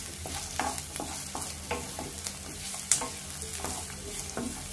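Chopped capsicum and carrot frying with onions in a pan, a steady close sizzle broken by repeated stirring scrapes at an uneven rhythm, with no talking.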